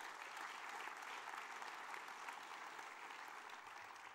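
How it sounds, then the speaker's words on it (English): Audience applause for a conference organizing team at an official closing, a steady, dense wash of many hands clapping at moderate distance, sustained without a break for about four seconds. "So give them a big round of applause as well"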